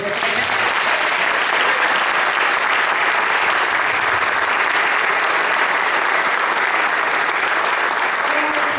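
An audience applauds choirs at a choir concert, steadily and loudly, a dense wash of clapping that holds for several seconds without pause.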